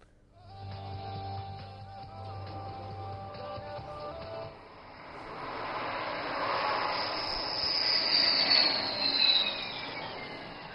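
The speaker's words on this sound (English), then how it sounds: "And touchdown. This is where Rafale excels." A Rafale fighter jet touches down on landing, its engine roar building from a low rumble into a broad, loud whooshing hiss with a rising whine toward the end, heard at a distance without talk.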